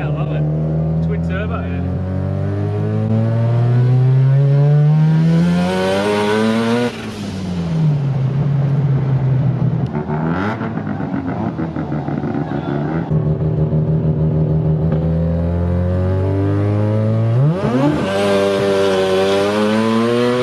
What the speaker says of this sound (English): This RX7 runs a twin turbo 13B.